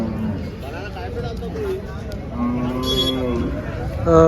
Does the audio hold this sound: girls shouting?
no